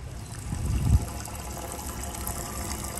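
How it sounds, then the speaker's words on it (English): An RV fresh water tank being topped off with a bleach solution from a hose, a steady low rushing and trickling of water with a brief louder gush near the start, close and continuous with no talk. "Now I'm going to top my tank off with the bleach solution in it."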